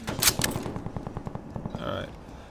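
A custom-built XM4 rifle fires in Call of Duty Black Ops league play, producing a quick, evenly spaced string of sharp, close shots. A brief tonal game sound follows near the end.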